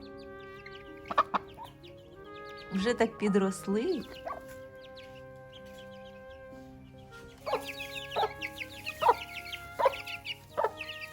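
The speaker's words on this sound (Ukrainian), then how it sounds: "тут квочка з курчатами." A brooding hen clucks softly near her chicks, bursts of low clucks coming in short rhythmic groups, with someone speaking close by in between.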